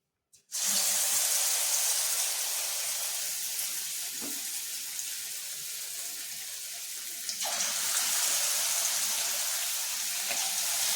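Chicken pieces for Chettinad-style chicken 65 drop one by one into hot oil over a medium flame, giving a steady, loud broadband sizzle that continues throughout and swells again partway through as more pieces go in.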